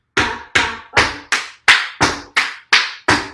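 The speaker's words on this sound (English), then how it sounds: "Clap, clap, clap, clap, clap, clap, clap." Nine sharp hand claps ring out in a steady even beat during a tap dance routine, each clap crisp and close with a short decay and clean silence between.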